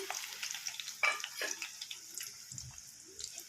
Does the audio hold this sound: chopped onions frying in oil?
yes